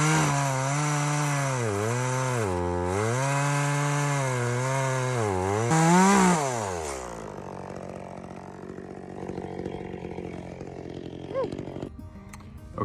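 An Echo CS-400 chainsaw cutting logs: a loud, close engine whine holds steady and wavers in pitch, then drops as the chain bites into the wood, leaving a rougher, quieter grinding that fades toward the end.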